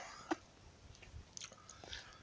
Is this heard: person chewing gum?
yes